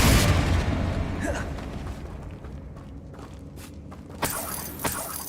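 Spell explosions in the video game Hogwarts Legacy: a heavy booming blast opens, rumbling and fading over a couple of seconds, followed by quieter crackles, scattered thuds and a couple of small pops.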